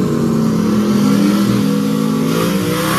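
A drag racing truck and a Camaro rev their engines at a drag strip, a loud, close, sustained mechanical roar with rising revs holding steady throughout, alone without talk.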